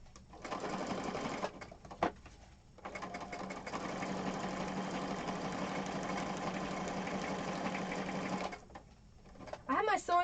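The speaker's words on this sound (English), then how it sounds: "I have my sewing machine on a little" A sewing machine stitches through a paper junk journal cover on a small TV tray, running in a steady rapid whir for several seconds with brief pauses before and after, close and loud.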